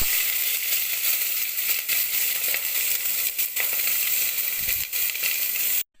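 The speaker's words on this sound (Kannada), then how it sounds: "ಅದಕ್ಕೆ ಎಣ್ಣೆ ಹಾಕಿ ಹೆಚ್ಚಿದಂಥ ಈರುಳ್ಳಿ ಹಸಿಮೆಣಸಿನ್ಕಾಯಿ ಹಾಕಿ ಫ್ರೈ ಮಾಡೋಣ." Chopped onion and slit green chillies frying in oil in a pressure cooker pan, a steady loud sizzle and hiss that carries evenly through the whole stretch, then cuts off abruptly near the end.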